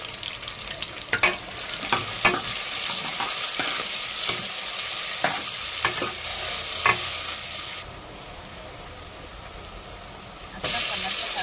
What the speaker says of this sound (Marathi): आता कांदा टाकून मी हलवून घेतलेला आहे.